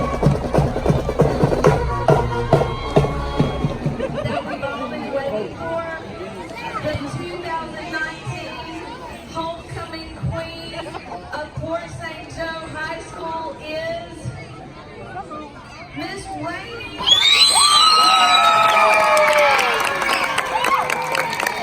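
Street crowd in a small hometown at sunset during a parade: steady murmur of many voices and scattered chatter, rising into louder cheering and applause near the end.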